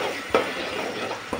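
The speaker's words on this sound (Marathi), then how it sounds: "आणखी आता आपण कांदा शिजवून घेऊ।" Onion puree sizzles steadily in a hot pan while cooking for a village-style chicken dish, with a couple of soft scraping stirs near and alone.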